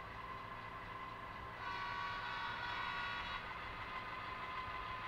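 A model train controlled by DCC through a Raspberry Pi and SPROG hums and whirs steadily along its track, with a slightly louder motor tone in the middle stretch, quiet and close.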